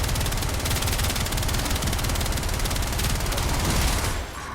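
Gotva Prime assault rifle firing nonstop in Warframe, a loud steady rapid stream of shots lasting several seconds before cutting off abruptly.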